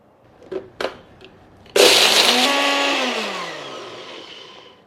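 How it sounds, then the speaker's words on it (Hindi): A kitchen mixer grinder whirs loudly after a few faint knocks, spinning up suddenly and grinding masala spices for chicken pulao in one steady run that slowly winds down in pitch. "मसाले को तो हमने ग्राइंड कर लिया अच्छा सा।"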